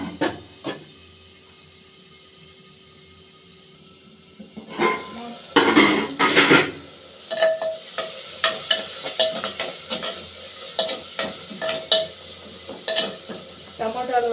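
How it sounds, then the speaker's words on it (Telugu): Tomatoes frying in a pan with chilli, salt, tamarind and turmeric, heard as a quiet sizzle before a spoon begins scraping and clattering against the pan in repeated close stirring strokes. "టమాటాలు కూడా వేగిపోయింది."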